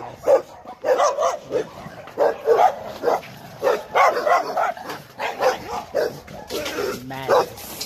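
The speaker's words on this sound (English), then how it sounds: "Dogs going crazy." Several dogs bark repeatedly and excitedly in close, rhythmic bursts, with some yips and whimpers mixed in, while a person's voice is heard at times.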